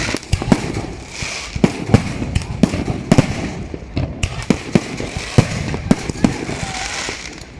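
New Year fireworks and firecrackers go off all around in Phuket, Thailand: sharp, irregular bangs and pops, some close and loud, others farther off, over a constant crackling din.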